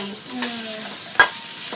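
Stir-frying with shrimp paste for a spicy pork dish, a low bed of frying noise broken by two sharp utensil clacks, one clearly louder, with faint tonal background sounds and no clear speech.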